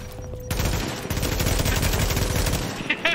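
Automatic gunfire in the video game Tom Clancy's The Division, a sustained rapid burst of shots that starts abruptly and rattles on for nearly three seconds, loud and close.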